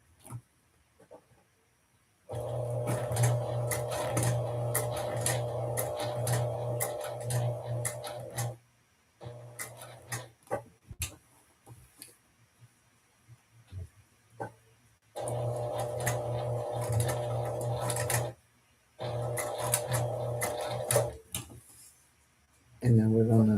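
A sewing machine stitches across a handmade bag in several steady, whirring bursts separated by short pauses, fairly close and loud, with brief quiet gaps between runs.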